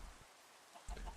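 A chicken in the video game Minecraft gives a brief, faint cluck at the end of an otherwise quiet moment.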